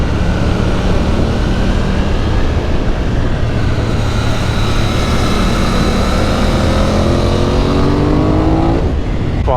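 A BMW motorcycle fitted with an Akrapovic exhaust revs and accelerates, its engine note climbing steadily in loud, continuous pulls close by.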